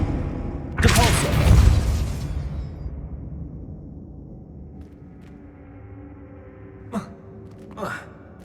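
A Depulso spell cast in Hogwarts Legacy on PS5 bursts out as a loud whooshing blast that trails off, followed later by two short sharp magical cracks over a low game ambience.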